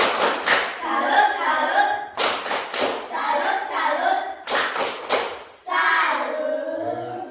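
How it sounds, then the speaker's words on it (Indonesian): A class of schoolchildren claps in three rhythmic bursts of a patterned salute clap, hands striking in a patterned beat, with a few voices calling out between rounds. "Mari kita beri tepuk salut untuk kelompok 3."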